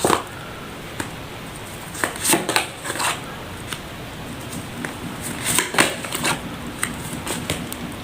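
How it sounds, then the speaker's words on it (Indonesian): Tarot cards being handled and shuffled, with scattered soft paper flicks and small clustered bursts of riffling over a quiet background, irregular and fairly close. "Saya shuffle terlebih dahulu."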